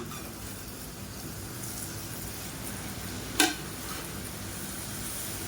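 Murukku dough frying in hot oil makes a soft, even bubbling sizzle throughout, with a single sharp click near the middle.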